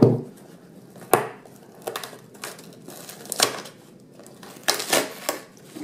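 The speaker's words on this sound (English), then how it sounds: "I'm going to go ahead and open the box here and take a look at what's inside it." Cardboard box holding new scales for a ZT 0550 folding knife being opened up close, with scattered crinkles, rustles and sharp taps coming in irregular bursts.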